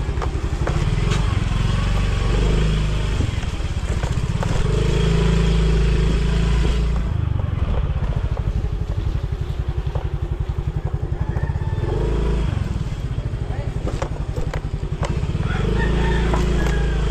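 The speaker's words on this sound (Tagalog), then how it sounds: "Motor ni Jmart to, yung TMX, yung motor ni Kamakno." A TMX motorcycle engine runs steadily nearby with a throbbing, clattering idle that stays loud and continuous throughout, with faint background sounds.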